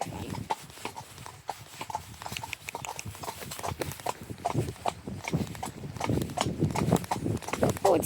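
A ridden horse clip-clops in a steady walking rhythm of close hoofbeats throughout, with people chatting over the steps.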